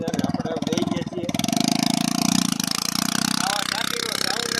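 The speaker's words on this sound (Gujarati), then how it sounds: "તો આપણે આપણું એક્ટિવા ચાલુ કરી નાખ્યું છે" A Honda Activa scooter engine runs with a rapid, pulsing putter that steadies into a rhythmic chug, close and loud, under a man's speech.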